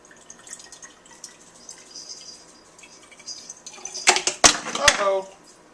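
Water is poured into a small espresso coffee pot, a soft trickling stream building into louder splashy pouring and dripping near the end, close by with faint background noise.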